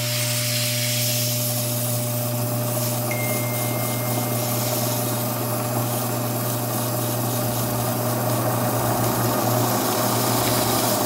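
An aquamarine gem is ground flat by hand on a wet lap fed by a drip tank, producing a steady, continuous gritty grinding over a low motor hum throughout, with no talking.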